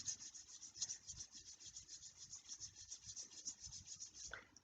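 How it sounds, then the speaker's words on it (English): Palms rub briskly back and forth in a steady, close, soft rasping rhythm during a children's yoga session, ending with a slight scuff. "Rub your hands together."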